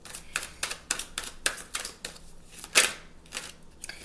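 Cards riffled and tapped while pulling an oracle card from the deck, a run of crisp, close clicks and flicks in a quick, uneven rhythm.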